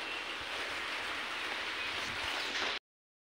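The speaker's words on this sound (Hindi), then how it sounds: "बारिश भी आ रही है थोड़ी थोड़ी।" Light rain falls steadily outdoors in the evening as a continuous soft hiss, fairly even and close, with no voices, ending abruptly.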